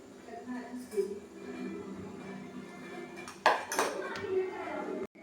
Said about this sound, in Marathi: आता ह्याच्यात दूध टाकून मी मिक्स करून घेणार आहे